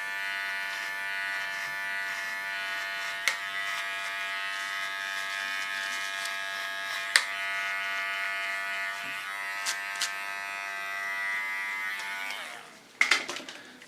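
A small electric hair clipper runs in a steady, even buzz while cutting a dog's coat down to 0–2 mm, with a few faint clicks as it works close to the skin. Near, no talk, and it stops abruptly near the end.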